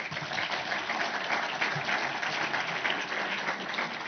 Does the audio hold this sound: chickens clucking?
no